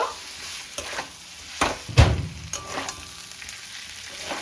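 Fried potatoes and pointed gourd are stirred with Gobindobhog rice and spices in a hot pan, giving a gentle sizzle with several distinct scraping strokes, one heavier thump-and-scrape standing out midway.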